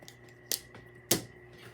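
Scissors or shears cut a beaver pelt at an angle to make leg holes. Two crisp snips land close and clear, and a softer click falls between them in an otherwise quiet space.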